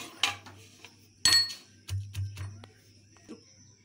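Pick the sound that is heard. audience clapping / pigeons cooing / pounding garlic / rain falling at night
pounding garlic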